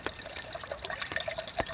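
Hot water pours into a cup for camp coffee under a tarp during a rain storm, a steady close trickle and splash lasting a couple of seconds with no talking.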